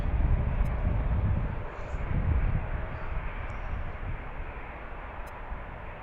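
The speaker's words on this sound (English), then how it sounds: "that was a 757 coming in from Seattle" A Boeing 757 airliner arriving from Seattle lands at Washington's DCA airport in a crosswind, heard as a loud, steady low jet roar that swells and then eases slightly as it passes, with no voices.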